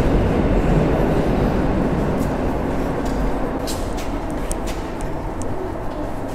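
A train rolls into Warszawa Śródmieście station in Warsaw, a loud, close, continuous rumble of wheels and carriages with brief higher squeals and clatter as it comes in, and no voices.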